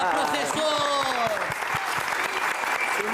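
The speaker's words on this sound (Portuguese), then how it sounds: "Isso merece uma salva de palmas!" Studio audience clapping steadily on a Brazilian morning TV show, loud and sustained throughout, with faint voices and tonal sounds over the top.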